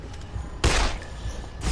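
A single sharp gunshot fired at a Suicider zombie in the video game Dead Island. The crack is close and abrupt against low background noise, and a fainter follow-up burst comes at the end.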